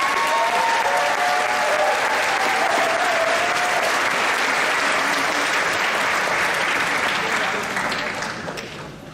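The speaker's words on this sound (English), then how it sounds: "So a big round of applause for them." A graduation crowd at a high school ceremony gives sustained, loud applause for parents and guardians, a thick roar of clapping with voices mixed in, holding steady for several seconds before tapering off at the end.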